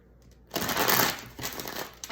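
Tarot cards being shuffled by hand, a quiet start then a burst of riffling, crisp papery flutter lasting about a second, followed by softer shuffling clicks and a final flick, close and without talk.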